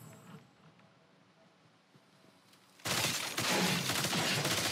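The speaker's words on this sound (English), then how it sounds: "But really powerful, this grenade launcher." Grenade launcher fire in the video game Destiny 2 Lightfall: a quiet stretch gives way to a sudden loud, dense burst of explosive blasts that keeps roaring to the end.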